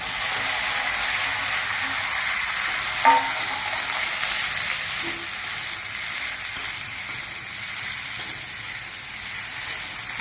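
Okra with a little turmeric sautéing in a pan, a steady close sizzle of frying throughout, with a few faint clinks of stirring.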